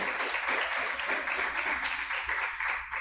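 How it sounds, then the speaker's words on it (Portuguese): Church congregation applauding together, a steady wash of clapping that holds at moderate volume for about three seconds with no speech on top. "Quantos podem aplaudir ao nome do Senhor por essa palavra?"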